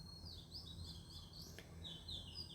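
Birds chirp at night outdoors, with faint, high, short tweets scattered over a quiet hiss, heard alone and distant.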